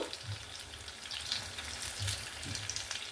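Crispy cheesy potato balls deep-frying in hot oil, a continuous dense crackling sizzle with soft low bubbling pops throughout, close and steady with no talking.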